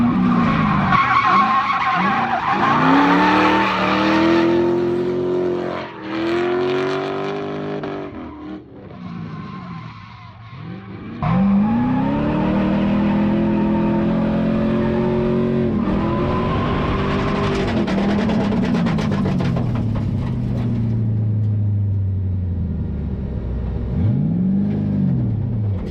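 Mazda FC RX-7 fitted with a 5.3-litre LS V8 drifting on a track, loud and close, with engine revs rising and falling through long sweeping pulls and continuous tyre screech.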